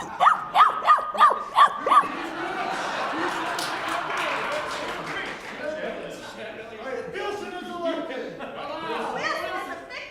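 A startled dog, jolted from sleep, barks about six times in quick succession at the start, then gives way to steady talking and chatter.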